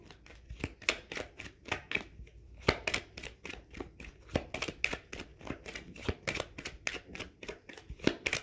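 Tarot cards being cut and handled during a weekly Aquarius reading, a steady run of crisp papery flicks and riffles, close and moderately loud, with no speech.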